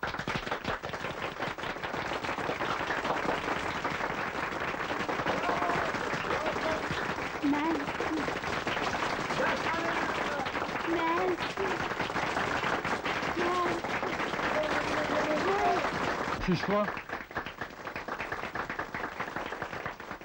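Sustained audience applause and clapping greeting a female singer at a stage show in an old Turkish comedy film, dense and steady throughout, with a voice shouting over it.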